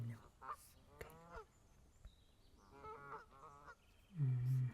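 Goose honks sound out repeatedly, with several harsh calls early on and a loud, sustained honk near the end, set against quiet background noise.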